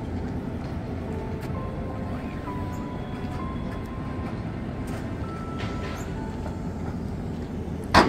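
A passenger train with numbered cars carries a constant low rumble and rattle, with faint squeaks and clicks scattered through, steady and fairly quiet, as if heard from inside a carriage.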